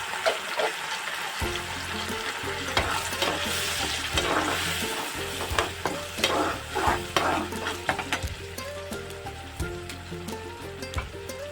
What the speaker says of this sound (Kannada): ಈಗ ರುಬ್ಬಿಟ್ಕೊಂಡಿರುವಂತಹ ಟೊಮೊಟೊ ಪೇಸ್ಟ್ ಹಾಕ್ತಾ ಇದ್ದೀನಿ.